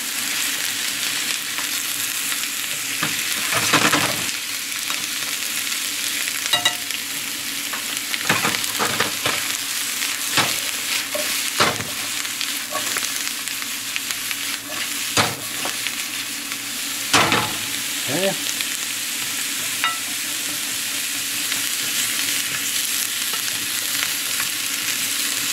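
Baby bella mushrooms, squash, garlic and onions fry steadily in a pan with a loud continuous sizzle, broken by occasional stirring scrapes and clatters.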